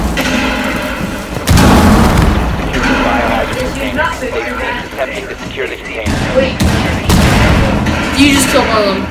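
Explosions and booming blasts in a Rainbow Six Siege match, with a heavy boom standing out loudly and further thuds scattered through, mixed under excited players talking over each other.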